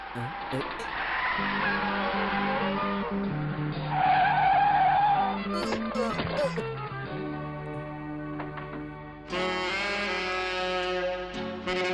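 Car tires skid and squeal during a chase after a runner in an action film scene, a long loud screech with shifting engine tones and music-like layers throughout.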